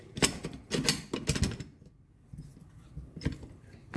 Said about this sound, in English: Putting in the bolt.